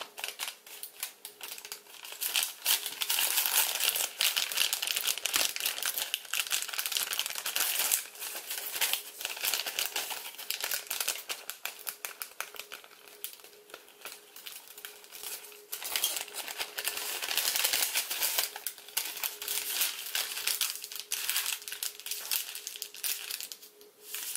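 Paper crinkling and crackling as it is folded and sunk into an origami Ancient Dragon, dense close-up rustling with sharp creasing snaps that continue steadily for about twenty-four seconds, with no talk.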